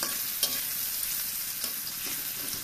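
Onion, garlic and ginger sautéing in a pan for a lentil dal, a steady close sizzle with occasional scraping stirs of the spoon, no voices.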